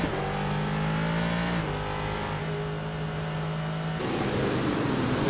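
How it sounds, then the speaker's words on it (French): A Ford race car's big engine in the iRacing game at Interlagos roars continuously with a deep, heavy tone, revs climbing and dropping through several gear shifts, loud and close throughout. "Et ça sonne américain, ça sonne gros moteur."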